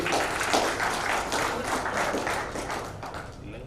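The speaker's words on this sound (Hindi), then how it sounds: "आप सेवा भाव सदा समन से अर्पित कर कार्यक्रम तालियों से आगाज करते हैं।" Audience applause opening a charity function at a hotel in Jodhpur, a dense, steady patter of many hands clapping throughout, loud and close, fading slightly toward the end.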